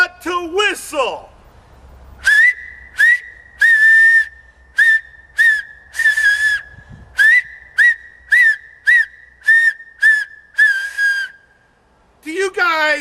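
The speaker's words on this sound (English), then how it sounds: "Do you remember in the old days when we used to whistle like this?" A person whistles in a bar setting: a rapid series of about a dozen short, sharp, shrill blasts in a quick rhythm, loud and close, with brief voice sounds at the start and end.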